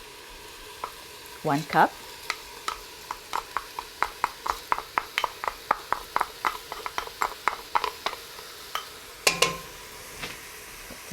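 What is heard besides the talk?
rinsed red lentils frying and being stirred with vegetables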